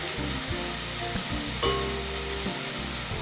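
Onions fry in a hot pan with a loud, continuous sizzle and a low rumbling undertone.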